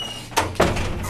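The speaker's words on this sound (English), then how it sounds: "Let me close the door." A door closed in a quiet room, two quick close thumps in succession with a brief soft tail.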